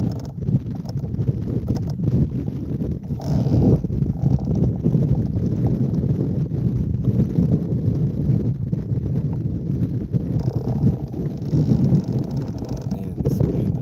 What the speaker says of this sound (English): this wind is starting